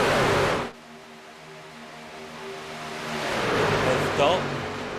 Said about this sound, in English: So cool to watch these trucks go by